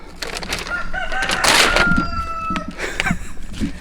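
Backyard chickens cluck and a rooster crows on an off-grid homestead, a loud crow rising over busy clucking and scratching, close and lively with no talk.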